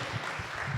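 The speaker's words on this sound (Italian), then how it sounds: "Facciamo un applauso così scaldiamo anche un po' il clima." Audience applause at a community conference on the future of housing in Vittorio Veneto, a brief steady wash of clapping from a seated crowd, moderately distant and even in level.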